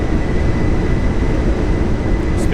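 Steady, roaring engine noise from a Boeing 747-200 at takeoff thrust, heard as a dense, unbroken rumble from inside the cockpit with no talk over it.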